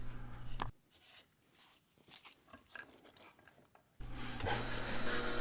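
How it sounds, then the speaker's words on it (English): A long strip of 120 grit sandpaper blends a wooden strop handle, producing close, loud scratchy rubbing. The sanding comes in two bursts, at the start and again at the end, with quieter rustling between them. "Finally, all the work is blended together with a long strip of 120 grit sandpaper."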